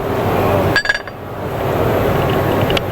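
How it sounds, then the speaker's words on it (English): A metal part drops onto an SMW Autoblok WPS Max clamping fixture at the IMTS 2024 trade show booth, giving a brief cluster of sharp metallic clinks over steady, loud hall noise. "dropping the part on"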